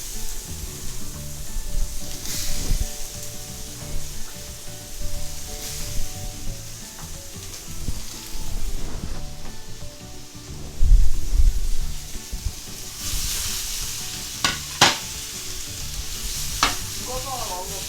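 Onions, apples and diced garlic frying in a shallow pan with leftover oil from pork chops, sizzling steadily up close with intermittent stirring scrapes and clatters and no talk.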